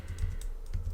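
Computer keyboard keys, Alt and the arrow keys, are pressed in a quick, steady run of close, crisp clicks heard alone.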